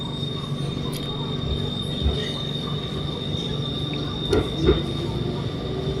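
A BTS Skytrain train pulls into Bang Na station, with steady rail rumble, a constant high whine and short metallic wheel squeals near the end, all fairly close, with no talking.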